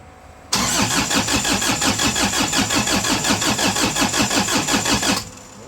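A 1950 Chevy fitted with a swapped Isuzu engine cranks over in a loud, rapid, even rhythm for about five seconds, the starter chugging steadily without catching before cutting off.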